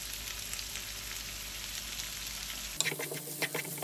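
Methi and mustard seeds frying in oil in a pan for potato egg curry, a steady close sizzle for most of the clip that drops away near the end to a few scattered crackles and pops.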